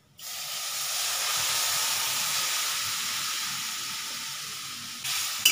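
Lentils poured into a hot pot give a loud, steady steam-like sizzle and hiss that starts abruptly and holds for several seconds, ending with a brief clatter.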